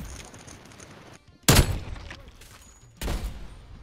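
Two loud sniper rifle shots ring out in Call of Duty Cold War, about 1.5 seconds apart, each a sharp full-band crack with a short decaying tail over a low game ambience.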